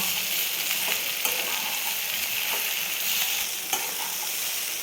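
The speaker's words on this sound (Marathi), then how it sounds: "लगेच आपण हे भिजवलेले पोहे टाकून घेणार आहे छान मिक्स करून घ्यायचं" Soaked poha stirred into hot oil in a pan, a steady close sizzle with faint scraping strokes of the spoon throughout.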